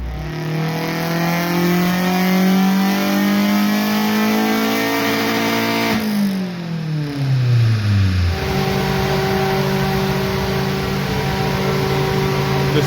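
A car engine, likely a 20-valve turbo, revs hard while strapped to a dyno, loud and close, its pitch climbing steadily, dropping at a gear change, then climbing again.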